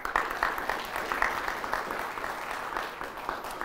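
Studio audience at a quiz show applauding steadily for several seconds, a moderate wash of clapping with no voices over it.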